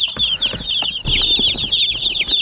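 Cornish cross meat chickens on a farm cluck and chirp continuously in a dense flock chorus, close and fairly loud, with a few scuffling thumps underneath and no talking.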